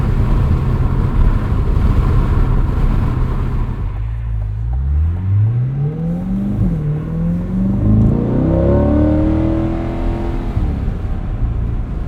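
A 2025 Chevrolet Corvette Stingray C8 3LT on a cold day, its engine rumbling steadily at first and then revving up through several rising, shifting pulls, loud and close throughout with no talking.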